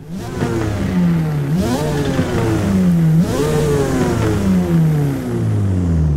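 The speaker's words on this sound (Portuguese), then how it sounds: "Deixa eu dar uma acelerada só pra vocês sentirem" A Mazda RX-7 with its original rotary engine revs in the Forza Motorsport game, rising and falling in repeated loud, buzzy sweeps that climb in pitch, dip, and climb again, close and dominant.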